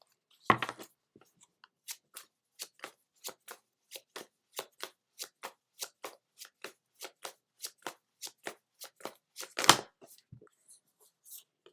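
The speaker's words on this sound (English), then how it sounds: "let's pull some cards from the Angel Wisdom deck" Angel Wisdom oracle cards being shuffled by hand: a sharp riffle at the start, then a steady run of about twenty crisp evenly spaced card slaps, ending with another louder riffle, close and alone.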